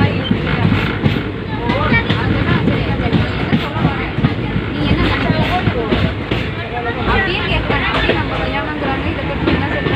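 A train pulls out of Bhairoganj railway station in India. A loud, steady rumble runs through the whole clip, mixed with dense crowd babble and station bustle on the platform.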